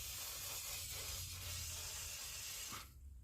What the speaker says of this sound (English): I'm just going to spray the area